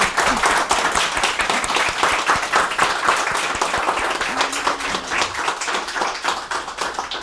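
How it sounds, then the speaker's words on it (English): An audience at a Montessori workshop applauds teachers with a warm, steady round of clapping that continues throughout, close and fairly loud, with no one speaking over it. "Please help me to appreciate them with the warm round of applause"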